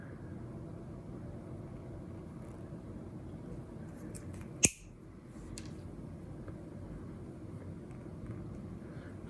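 A small plastic pin casing from a Mac Pro northbridge is cut in half, a single sharp snip against a quiet room hum.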